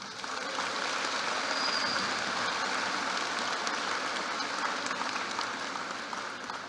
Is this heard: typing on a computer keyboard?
no